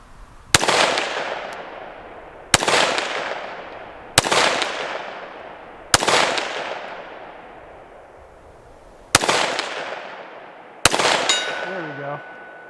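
A Smith & Wesson M&P 5.7 pistol fires six loud, sharp shots at a 100-yard silhouette target outdoors, spaced about two seconds apart, each with a trailing echo, and a faint metallic ring follows the last shot.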